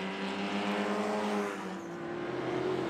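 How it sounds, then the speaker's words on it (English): A big, powerful Holden Commodore race car on Yokohama tyres roars past close by at a circuit, its engine a loud, steady drone that dips briefly before building again. "the big powerful Commodore squirming on its Yokohama tyres"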